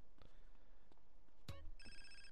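A phone rings in the video game GTA San Andreas, a brief bright electronic trill near the end of a quiet stretch, faint and with no talk.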